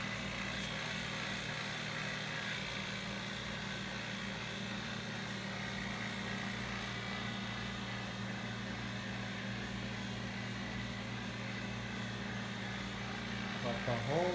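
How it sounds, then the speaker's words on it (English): A vacuum pump runs continuously while a refrigeration capillary tube is serviced in a restaurant at night, a low steady droning hum with a faint voice under it toward the end. "Nothing like vacuuming at 2 in the morning."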